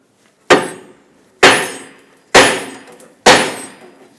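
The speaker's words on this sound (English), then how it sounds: "we'll take a hammer and tap right here on the knuckle" Four sharp metallic hammer strikes on a Chrysler 300 steering knuckle land at an even pace about a second apart, each ringing briefly before fading.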